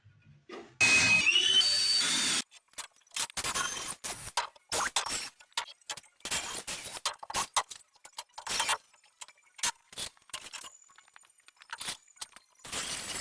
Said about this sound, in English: we're going to get some screws and drills and get this thing going